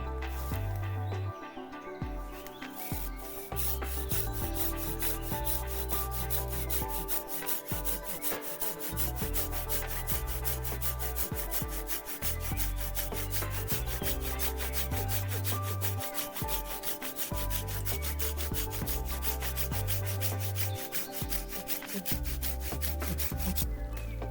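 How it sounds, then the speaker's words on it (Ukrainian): A Silky Gomboy 210-10 folding pruning saw cuts through a branch in fast, steady back-and-forth strokes, close and continuous, with a rasping, scraping texture. "А зараз подивимося, як ця пилка ріже гілку."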